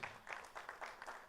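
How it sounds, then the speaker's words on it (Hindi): Applause at a Bhojpuri film trailer launch event, faint and distant clapping from an audience in a short continuous burst, no voices. "सारा जी के लिए तालियां प्लीज"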